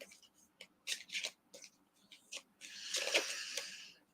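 Tarot cards being shuffled by hand close up, a series of soft papery riffles and taps in short bursts, ending in a longer continuous shuffle, quiet and intimate.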